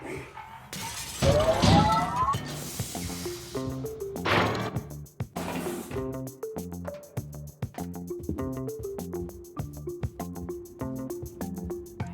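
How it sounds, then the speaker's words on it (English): Glass shatters loudly in the video game Quantum Conundrum, a sharp crash followed by a couple more breaking bursts, then tinkling fragments over steady, plucked game music. "the breaking of this glass is a necessary evil"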